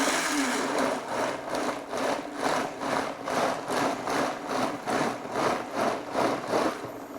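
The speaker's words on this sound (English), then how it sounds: "So I have my blender on, and I'm just going to pulse it." A blender pulsing vine-ripened tomato soup ingredients, its motor surging and dropping in a steady series of short bursts, loud and close with no talk.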